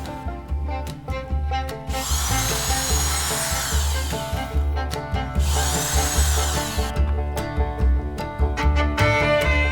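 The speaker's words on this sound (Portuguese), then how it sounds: "Para isso vou utilizar aqui a furadeira." A power drill bores through the plastic bottom of a bottle while building a homemade chick waterer, two loud high-pitched whirring bursts over a steady motor hum, close and without talk.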